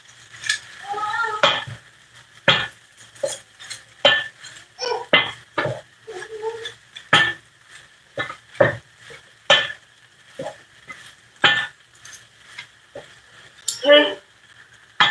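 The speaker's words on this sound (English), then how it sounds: "Give it a nice stir." Shrimp fried rice is stirred in a pan, with intermittent spatula clinks and scrapes and a faint sizzle between phrases of a person talking.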